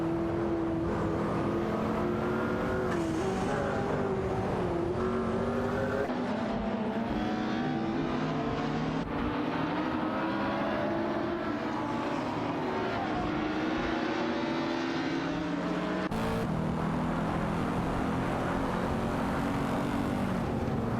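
AI-driven race cars, including a Lamborghini Murcielago and a McLaren, battle for position on a video game track, engines droning and revving continuously with shifting pitch as several cars run close together.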